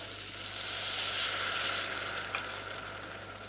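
Steady close sizzle of leeks and potatoes frying in a pot as broth is poured in, with a brief clink of a utensil partway through, and no talking.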